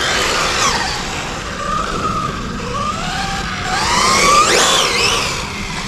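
A Traxxas 4TEC VXL radio-controlled speed car races past outdoors near water, its high electric motor whine rising and falling in pitch with fast passes, sounding fairly loud and close.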